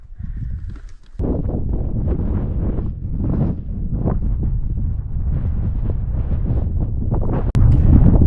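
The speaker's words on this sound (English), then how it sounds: "but still pretty windy" Strong, steady wind roars and buffets the microphone on the snowy summit of Wheeler Peak in Great Basin National Park, a continuous low rumble with gusty surges and no talking.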